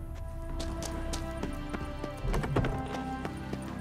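Roach, a horse in The Witcher 3, gallops with steady rhythmic clip-clop hoofbeats, moderately close, over a low ambient game background with a faint musical tone.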